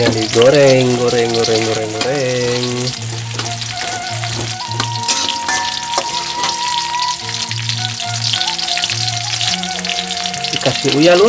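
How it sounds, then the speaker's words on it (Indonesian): Shallots fry in hot oil in a pan, giving a busy, continuous sizzle and crackle close by, with tonal music playing along over the frying. "Bawangnya digoreng, goreng."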